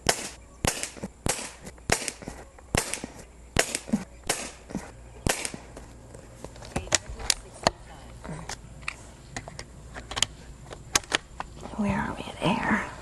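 Sharp cracking shots from a .25 caliber Umarex Gauntlet 2 airgun fired one after another through a magazine, irregularly spaced and fairly close, with soft murmured speech between them.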